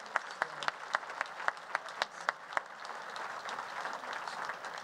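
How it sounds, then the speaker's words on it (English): Scattered audience applause at a food and agriculture conference, a few sharp distinct claps in the first half over a broader clapping wash that continues at moderate level. "But let's have a round of applause for Alyssa."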